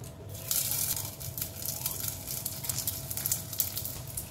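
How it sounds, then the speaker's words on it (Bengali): Ten to twelve curry leaves hit hot oil in a pan and are stirred, giving a loud, close, crackling sizzle with bursts of spitting. No one speaks. "আর 10 থেকে 12টা কারি পাতা আমি দিয়ে দেব। একটু নেড়ে চেড়ে নেব।"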